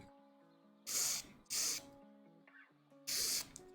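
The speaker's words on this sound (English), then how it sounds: "when you spray, it will remove the dust and it will penetrate inside the bearing to the tiny roller" A spinning bearing gets three sharp hissing blasts of spray cleaner, each about a third of a second long, over a steady whirring hum from the spinning bearing.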